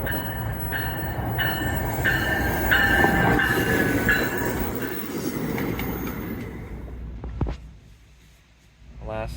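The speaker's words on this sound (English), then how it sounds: "It wouldn't take too long for our train to arrive." A train rumbles in with screeching, squealing wheels, then slows and fades, with a voice heard over the noise.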